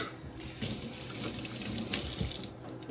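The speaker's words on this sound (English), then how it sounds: "Rinse off my cutting board." Tap water runs steadily into a kitchen sink as a cutting board is rinsed after slicing tomatoes, a close, continuous splashing rush with no talking.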